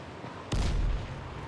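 A single loud, close gunshot with a booming tail in the video game Dying Light: The Following, breaking out of a quiet background.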